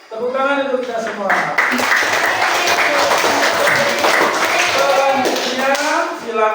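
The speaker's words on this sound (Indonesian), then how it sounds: "Tepuk tangan untuk kita semua." A school class applauds together after a tajwid recitation lesson, with lively, dense clapping mixed with children's voices throughout.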